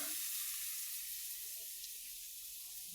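Oil sizzles steadily in a frying pan in a small home kitchen, cooking Bengali fish curry with pumpkin; a bright, even hiss that stays constant and fairly close throughout, with no talk.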